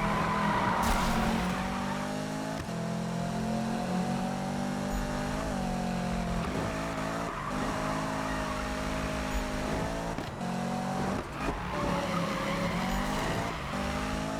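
In the Need for Speed 2015 racing game, a car drifts with a continuous tire squeal and skid over a steady engine drone, the screech swelling and easing through the slides.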